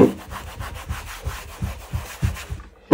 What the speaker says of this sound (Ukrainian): відтираю таким звичайним спиртом